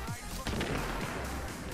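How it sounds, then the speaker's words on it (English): A grenade blast in The Division on PC, a short heavy boom near the start that rolls into a dense, rumbling wash of game sound with someone talking over it. "let me see if I can throw a grenade at these guys"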